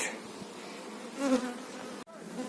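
Honey bees buzz around the frames of a hive as a new queen is introduced, a close, continuous droning hum that swells briefly partway through and then cuts off abruptly.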